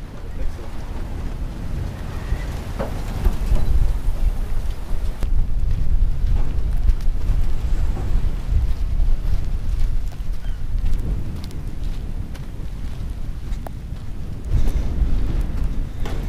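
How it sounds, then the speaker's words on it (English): Rain with rumbling thunder during a dust storm, heard as a steady broadband wash with low rumbles and gusty wind buffeting the microphone, fairly loud and continuous. "Yep, and it's raining."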